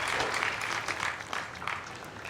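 Spectators at the 2023 US Open Pickleball Championships applaud in a fairly faint, uneven burst of clapping that rises and dips over a couple of seconds.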